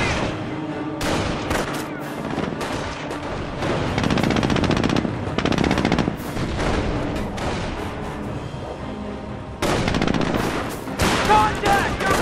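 Gunfire in the World War II strategy video game Company of Heroes: Tales of Valor, with rapid machine-gun bursts and rifle shots in repeated volleys, loud and close, mixed with booms and unit voice callouts.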